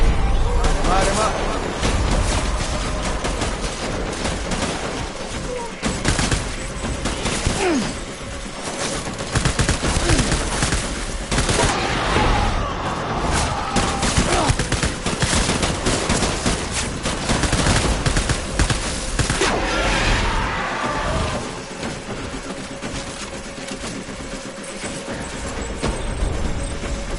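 Game gunfire from Death Stranding, dense bursts of automatic shots and volleys running throughout, loud and continuous, mixed with voices talking over the action.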